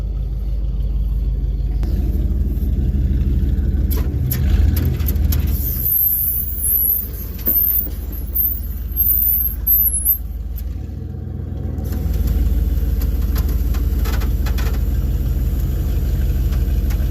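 A PT Cruiser with about 70,000 gentle miles idles steadily, giving a continuous low engine rumble that stays loud and close throughout, with a few brief clanks and shifts in tone partway through and no one talking.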